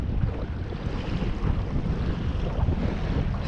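Strong wind buffets the microphone during fishing in bad weather on open water, a constant low roaring gust with rumbling surges and the wash of choppy waves, loud and close.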